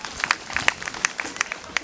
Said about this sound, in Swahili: Nipigeni makofi